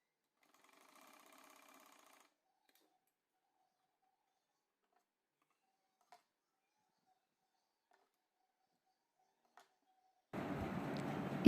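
A sewing machine stitching a girls' top bursts into a loud, dense run for about a second at the very end, after a long near-silent stretch broken only by a few faint ticks.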